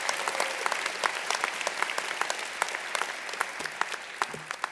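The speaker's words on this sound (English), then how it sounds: "You'll give a round of applause to everyone's families." A round of applause fills the hall at the 2019 NYU Wagner graduation convocation, a steady dense patter of many hands clapping for the graduates' families, with no speech over it.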